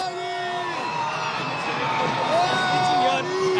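Dense crowd at PM Modi's road show in Hyderabad during the Telangana elections 2023, chanting and cheering steadily with whoops and shouts rising through the noise, voices close and continuous.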